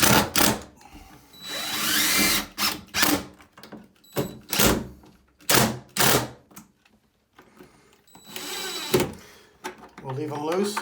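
A power drill drives screws into a door in bursts of whirring, with pauses and people talking in between.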